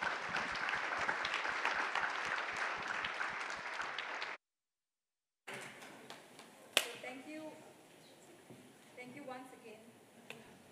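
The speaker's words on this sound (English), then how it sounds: "Can everybody please join me in giving a round of applause to our panelists?" Audience applause for a panel at a Future-Ready Society conference, a dense burst of clapping for about four seconds, then after a gap a sparser, quieter room with scattered claps and a sharp knock.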